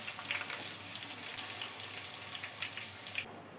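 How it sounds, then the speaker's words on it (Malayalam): Mango pieces frying in hot oil in a pan, giving a steady, fairly quiet hiss and crackle that runs without pause. "ബാലൻസുള്ള മാങ്ങ ഇതുപോലെ ഒന്ന് ഫ്രൈ ചെയ്തെടുക്കാം"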